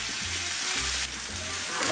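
Tuna steaks searing in a hot pan, a bright continuous sizzle close up with a low hum beneath, steady over a couple of seconds.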